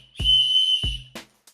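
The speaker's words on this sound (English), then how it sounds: "This is a whistle." A hand-held safety whistle for getting found when lost in the woods sounds two loud, sustained shrill blasts, each around half a second long, followed by short trailing noises.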